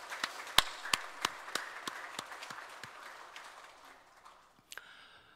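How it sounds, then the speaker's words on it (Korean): A church congregation claps in praise during a Sunday worship service, with scattered, distinct hand claps that start strong and steady, then thin out and fade toward the end, ending with a couple of late claps. "상 받으신 주님께 영광의 박수 올립시다."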